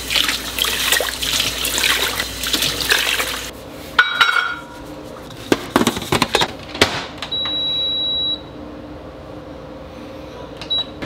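Dry rice grains being poured and rattled into a rice cooker pot in a home kitchen, a rushing hiss followed by scattered clinks and knocks of the pot and lid.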